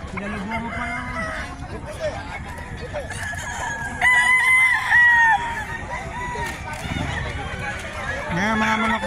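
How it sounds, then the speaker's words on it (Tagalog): Chickens and roosters at the Bocaue pet market in the Philippines crow and cluck close by, with one loud rooster crow standing out midway over a busy background of other birds. "Ngayon mga manok dito sa Bukawi ngayong araw ng Biyernes."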